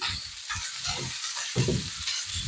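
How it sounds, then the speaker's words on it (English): Sliced zucchini and garlic sizzle in hot olive oil while being tossed in the pan, a steady frying hiss broken by rhythmic stirring scrapes and shuffles, close and fairly loud. "I'm going to give it a little toss just to get them all coated and make sure all the garlic's cooked"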